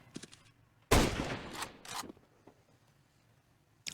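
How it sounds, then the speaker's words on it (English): A sniper rifle fires through a wall in a professional Counter-Strike match, one sharp loud crack with a short decaying tail, followed by a couple of lighter clicks and a faint snap at the end. "Oh, look at this wall bang."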